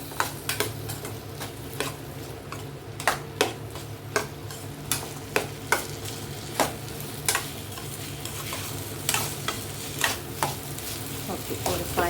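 Skin-on potatoes, finely chopped, frying with onion and tomato in a pan, stirred so a spoon scrapes and knocks in a steady run of sharp clicks over a continuous sizzle, close and moderately loud.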